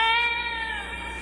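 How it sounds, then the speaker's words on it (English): A cat meows in one long, drawn-out call with a clear tonal, harmonic wail that slowly fades, heard close and alone with no talking. "Oh yeah, Sahu also has an invisible cat, which also is a little unsettling"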